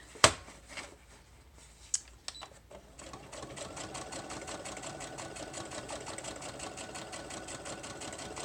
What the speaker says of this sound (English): as soon as I finish sewing this